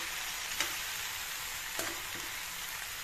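Potatoes and tomatoes frying in a pan give a soft, steady sizzle, fairly faint, with a couple of light utensil knocks and no talk.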